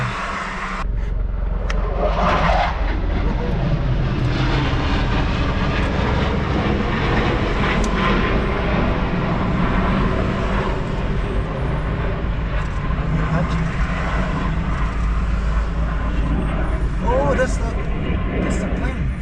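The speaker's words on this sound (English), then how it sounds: "That's the plane." A fixed-wing airplane passes overhead, a steady broad engine roar sustained throughout and fairly loud, with voices talking over it at times.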